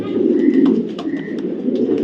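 Racing pigeons cooing close by, a few soft, low, throaty coos in quick succession with faint higher chirps over them.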